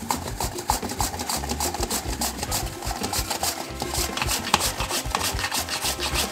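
Apple sliced on a Borner Classic manual vegetable slicer set to the thin side, rapid rhythmic up-and-down scraping and rasping strokes, close and continuous with no talk.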